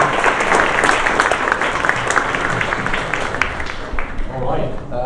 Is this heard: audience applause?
yes